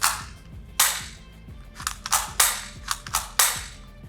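Magazine dropped out of a KELe M+P 40 manual springer gel blaster with its slide locked back, giving a series of sharp plastic clicks and clacks, close and fairly loud, spaced irregularly across a few seconds.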